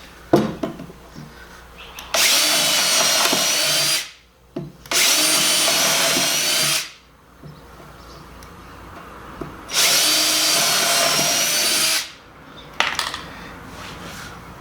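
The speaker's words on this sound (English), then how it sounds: "When you drill these holes," Power drill boring 7/64 or 3/32 inch pilot holes into 2x12 lumber for a raised garden planter bed, three loud sustained whining bursts of about two seconds each, separated by short pauses with small knocks and handling clatter.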